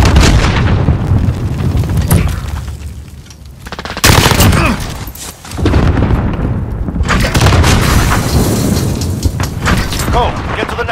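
Gunfire in the shooter Modern Warfare: loud bursts of automatic and single shots with heavy booms, in clustered volleys broken by brief lulls, close and dominant, with game radio voices in places.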